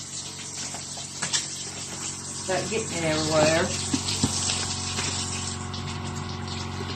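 Tap water running steadily into a sink while a raw chicken is washed on a board, a continuous close splashing flow with a person talking over it.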